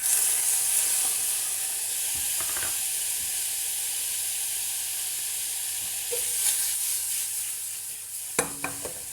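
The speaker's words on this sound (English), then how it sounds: "Oh yes, sizzling. I'm going to go in with my chicken." Chicken sizzles steadily in a hot pan, a soft constant hiss with a few clinks and scrapes near the end.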